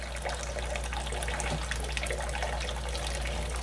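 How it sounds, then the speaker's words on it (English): Hot water from a kettle pours steadily into a sink, a continuous splashing rush with a low hum underneath, no talking. "So I'll add that to the sink."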